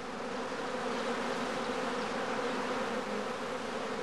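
A honeybee swarm at a home apiary of skep hives, a loud, dense and unbroken buzzing of countless bees filling the air at close range, alone without talk.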